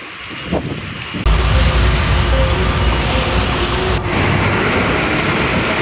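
A typhoon batters Taiwan with a loud, unbroken roar of wind and driving rain that swells suddenly and holds at full strength, close to the microphone with no one speaking.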